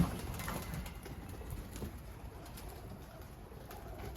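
Faint, low cooing of Iraqi racing pigeons kept in a loft in Germany, soft and steady against quiet background patter, with no voices.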